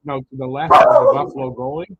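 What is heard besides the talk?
dog barking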